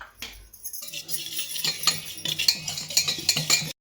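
Salt, cumin and turmeric are mixed into flour for thalipeeth: a spoon clinks and scrapes against a bowl in quick, irregular taps, close and fairly bright, ending abruptly.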